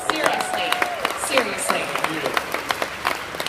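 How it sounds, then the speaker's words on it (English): Crowd applause at a Funimation panel at Anime Expo 2017, scattered claps under a speaking voice, fairly close and moderately loud. "So give yourselves a round of applause."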